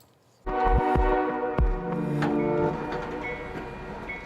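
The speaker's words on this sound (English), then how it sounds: "The train was back up and moving" A passenger train gets moving again after a long storm delay, with a loud rumble and clanking, bright sustained mechanical tones and a few sharp knocks, steady and close throughout.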